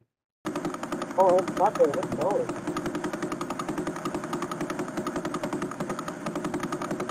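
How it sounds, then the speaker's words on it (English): A synthesized rendering of a pulsar star, made from space probe data, comes through as a rapid, steady, machine-like pulsing drone that holds throughout, while a voice speaks briefly over it near the start. "That's the sound of a pulsar star."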